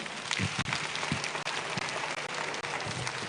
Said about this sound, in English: Let's clap for Papa Pienim